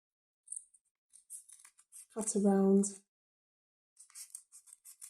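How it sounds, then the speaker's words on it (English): Scissors snip around a shape pinned onto fabric for a stitched badge, giving short crisp cuts in two bursts with a brief stretch of talk between them. "take your scissors and cut around"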